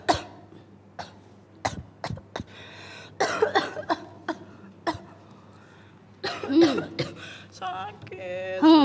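A child coughs repeatedly in sharp, uneven bursts, some clustered together and others spaced by quiet gaps. Strained vocal sounds come between them, close and fairly loud.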